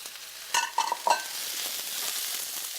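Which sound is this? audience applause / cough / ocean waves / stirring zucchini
stirring zucchini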